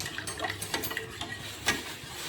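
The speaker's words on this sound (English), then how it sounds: "we'll stir it so that all of them mix well" A spoon scrapes and clinks in a pot of orange upma, giving several soft irregular stirring scrapes and taps, fairly quiet and close, with no talking.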